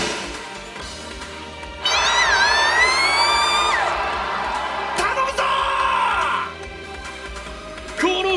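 A large crowd roars and cheers at a race introduction in the anime Platinum Sky, a loud swelling wave of shouts and whoops that holds for several seconds before fading, with sharp tonal cries rising through it.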